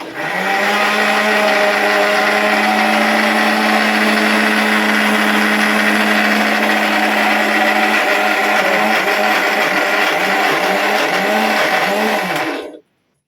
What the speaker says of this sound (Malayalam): മിക്സിയിലൊന്ന് കറക്കി വരാം